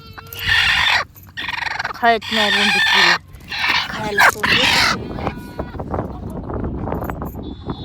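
A rooster crows loudly and hens cluck nearby, several bursts close together, then fainter talk and background noise.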